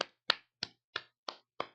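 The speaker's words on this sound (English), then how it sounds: "You can clap for that." Six sharp, evenly spaced claps ring out in a steady rhythm, close and crisp, each one isolated by short silences.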